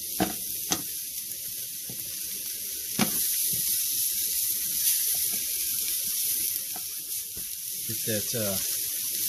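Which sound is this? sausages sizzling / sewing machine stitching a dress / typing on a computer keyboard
sausages sizzling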